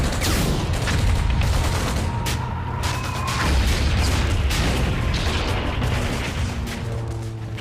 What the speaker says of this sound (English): Rocket launchers, mortars, and 85 machine gun nests tear into the Americans.